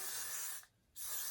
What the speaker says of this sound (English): Now spray back here a little bit.